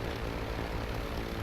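A helicopter in the video game Just Cause makes a dense, constant whirring engine drone, loud and steady throughout with no voices.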